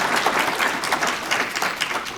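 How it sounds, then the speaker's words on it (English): Applause for a panel at a League of Women Voters community meeting, a steady, dense patter of many hands clapping throughout with no talk over it. "give them a little round of applause"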